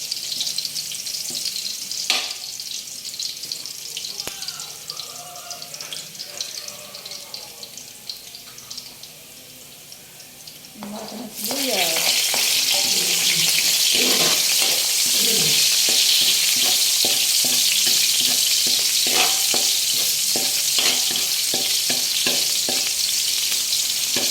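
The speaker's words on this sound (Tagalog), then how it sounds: "Mas maganda yung medyo pinapapula-pula ng bawang." Garlic fries in a pan while being stirred, first with soft scraping and light sizzling, then with a sudden loud, dense sizzle and repeated stirring clatter that continues to the end.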